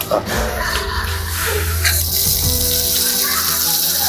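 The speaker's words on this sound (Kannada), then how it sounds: "ನೋಡಿ ಇಲ್ಲಿ ನೀರು" Water from a household laundry drain flows into a drainage chamber beside a home garden, a close, steady splashing gush that holds continuously under faint background noise.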